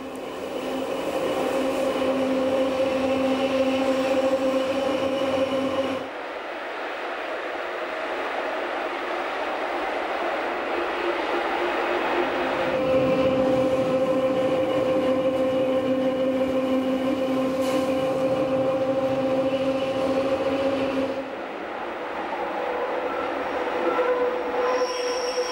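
Bernina Express train winding down a mountainside through loops and curves, wheels squealing in long sustained tonal screeches over a steady rolling rumble, loud and close, with no talking.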